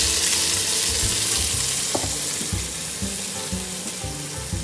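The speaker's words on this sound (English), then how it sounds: "So I'm just going to pour my rich tomato sauce in there." Rich tomato sauce poured into a hot pan, setting off a loud, steady sizzle and frying hiss that carries on throughout, with no talking.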